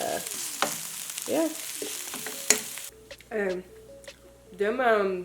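Brussels sprouts fry and brown in a pan, with soft sizzling, stirring and scraping under close casual speech, the crackle rising in short bursts between words.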